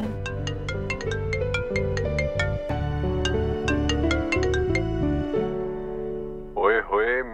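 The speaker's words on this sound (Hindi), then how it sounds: "दी आपका फोन बज रहा है।" A mobile phone rings with a bright, repeating melodic ringtone for several seconds, close and loud, before it cuts off and someone briefly speaks.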